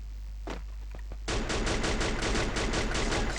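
Rapid automatic gunfire in the Free Fire video game bursts in after a few sparse shots, a loud sustained stream of rhythmic rounds.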